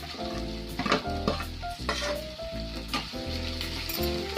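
Chopped onions, now light brown, sizzle loudly in a pan with ginger-garlic paste while a spoon stirs them, cooking the base for a cabbage and potato curry in a home kitchen. The scraping of the spoon against the pan repeats in steady strokes.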